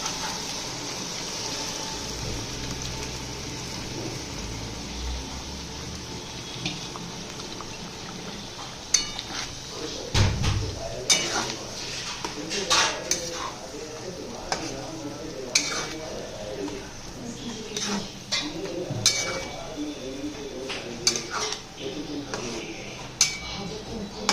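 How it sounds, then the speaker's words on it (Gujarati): Gravy is poured into a cooking pot for a home dinner, with liquid splashing and pot clinks sounding close. Scattered sharp knocks follow, and a voice speaks over parts of it. "ગ્રેવી નાખી દઈએ અંદર"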